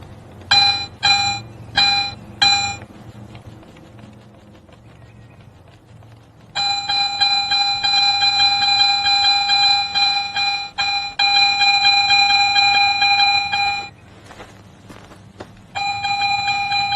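A Garrett metal detector sweeps back and forth over a buried target, giving bright tonal beeps: four short quick pulses, then long sustained tones that break off and return in a steady, repeatable pattern, loud and close with no talking.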